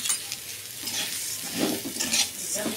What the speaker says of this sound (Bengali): এখানে ঘি দিয়ে 2 চামচ ঘি দিয়ে আমি ভেজে নিচ্ছি।